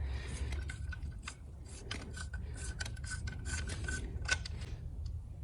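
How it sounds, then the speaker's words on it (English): A wrench loosens the oil drain plug bolt on an MV Agusta F4 motorcycle, producing close, quiet, rapid ratcheting clicks over a faint low hum, continuous for several seconds, with no talk. "Let me open the oil plug bolt here on the Agusta, MV Agusta."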